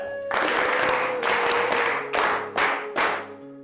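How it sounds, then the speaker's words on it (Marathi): A classroom of students breaks into brisk applause, then several shorter rounds of clapping follow as the sound fades out in separate bursts. "टाळ्या."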